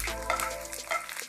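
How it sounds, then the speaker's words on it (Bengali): A teaspoon of panch phoron spices fries briefly in hot oil for a Bangladeshi mixed vegetable bhaji, crackling with a low sizzle and a few light stirring taps, close by and without speech. "পাঁচফোড়নটাকে অল্প একটু ভেজে নিতে হবে।"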